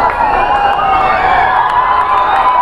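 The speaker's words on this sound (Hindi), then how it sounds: "ये देखिए यहाँ चल रहा है कबड्डी, बहुत ज़्यादा ही भीड़ है यहाँ पे" A dense, loud crowd at a kabaddi match cheers and shouts continuously, with many voices blending into a steady roar and occasional higher whoops.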